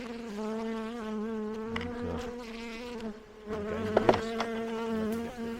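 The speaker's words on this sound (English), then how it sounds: "These other guys here who just go buzzing around, they'll eventually get the message and join the Queen and the rest of them there." Honeybees buzz around during a hive transfer, a close, steady droning hum with many overlapping wingbeat tones, rising briefly in loudness as individual bees pass near.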